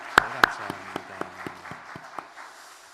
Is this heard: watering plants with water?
no